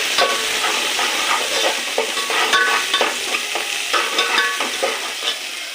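Chopped green chillies and large onion sauté in a hot pan, a loud, steady sizzle with repeated spatula scrapes and light clinks running throughout, nothing else over it.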